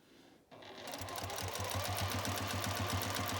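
A sewing machine stitches binding onto a quilt. After a moment of near silence the motor starts abruptly and settles into a fast, even, rhythmic chatter of needle strokes, close and clear, with no voices.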